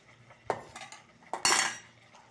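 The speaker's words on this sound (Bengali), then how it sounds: "এবার আমি আলুটা মশলার মধ্যে দিয়ে ভালো করে মশলার সাথে আলুটা মিশিয়ে নেব।" Spiced mashed potato being mixed in a pan, with a few metal utensil scrapes and clinks against the cookware, the loudest near the end, close up and with no talking.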